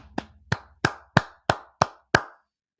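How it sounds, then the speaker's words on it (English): Seven sharp hand claps in a steady, evenly spaced rhythm, close and distinct, with faint low background hum between them. "You got a clap from me, man."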